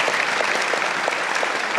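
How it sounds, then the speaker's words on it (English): A brief burst of steady audience applause for panelists closes a public discussion event, with even clapping filling the whole moment at moderate loudness. "Let's give them a round of applause."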